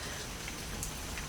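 Steady rain falls on a porch and yard outside, a dense continuous patter with scattered brighter drops, close and fairly loud with no talk.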